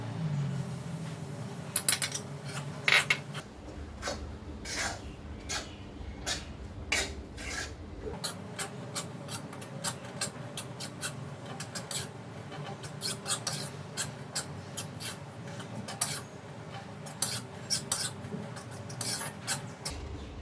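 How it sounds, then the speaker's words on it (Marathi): Gram flour roasting in ghee over a low flame, stirred with steady scraping and rasping strokes against the pan, quiet and close with no voices. "आपल्याला मंद याच्यावर मंद गॅसवरती पूर्ण हे बेसन भाजून घ्यायचं आहे"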